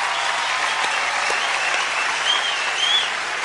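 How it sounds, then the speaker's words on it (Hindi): Loud, dense studio audience applause at a comedy show, continuous clapping and crowd noise held evenly throughout, with no speech on top. "जोरदार तालियां मेरे लिए।"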